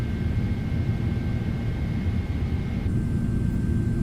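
Airliner jet engines of a PMDG 777 in Microsoft Flight Simulator during climb, a loud, steady, continuous low roar and rumble throughout with no break.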